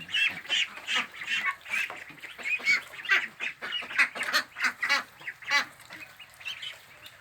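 Month-old Yi Liang ducks, big for their age and mostly female, keep up a busy chorus of quacks and honks in quick irregular pulses, close and lively, tapering slightly toward the end, no talk.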